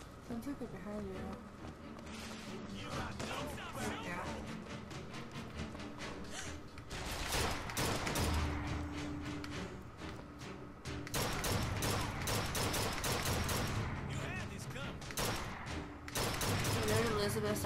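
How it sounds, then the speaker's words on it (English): Gunfire from the video game Bioshock Infinite, sustained and dense rattling shots and impacts that surge in loud bursts across the whole stretch, with game effects layered in and voices talking over the top. "People are shooting at me."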